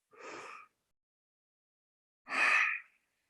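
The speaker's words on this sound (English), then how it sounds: "Just take 2 deep breaths." Two deep, audible breaths during an intermediate heart-opening yoga flow, close and clear, a short inhale followed about two seconds later by a longer, fuller breath, with silence between.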